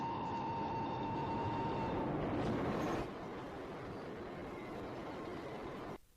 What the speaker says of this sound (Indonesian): Orang itu adalah Fox yang matinya dilindas oleh kereta.